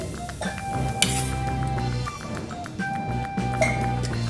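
A spoon stirs mango murabba with sugar in a pot, light metallic clinks and scrapes repeating irregularly beneath soft background music.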